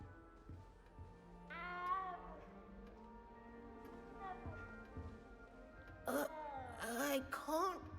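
A cat meows in the video game Hogwarts Legacy, with a drawn-out mewl early on and then several short, sharp meows close together near the end, all near and fairly clear against quiet game ambience.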